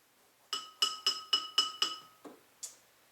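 A spoon clinks against a glass as blue food coloring is stirred into water, about eight bright, ringing taps in a quick steady rhythm, close and clear with no talking.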